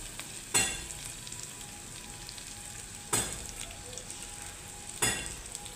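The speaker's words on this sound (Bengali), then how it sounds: "তো এখন আলুটার সঙ্গে শাকটাও আমি ভাজা ভাজা করে নেব" Radish greens, squeezed dry, fry with potatoes in a home kitchen pan, giving a steady low sizzle broken by three sharp scrapes or stirs, close and quiet, with no talking.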